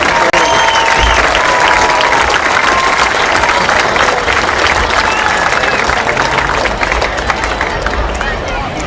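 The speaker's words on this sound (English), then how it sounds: "Let's give all our homecoming royalty and their parents one more round of applause." A football stadium crowd at a homecoming game applauds the homecoming royalty and their parents, loud, sustained clapping and cheering from a large outdoor crowd with an announcer's voice over it.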